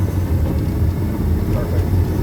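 A 2003 Porsche Boxster engine running in second gear gives a steady, loud, close low rumble that holds without a break, with no distinct shift event standing out.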